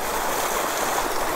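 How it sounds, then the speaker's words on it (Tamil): Water pours down a waterfall on the Kothayar route near Kanyakumari, a dense, steady, close rushing roar that fills the whole moment without talk. "கோதர் வந்தாச்சுன்னா இதுதான் ஃபுல்லாக அருவி."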